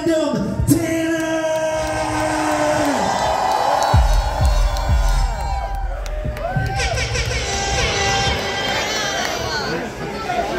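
A party crowd cheers and whoops for a performer, loud and continuous, with shouting voices and chatter mixed into the noise.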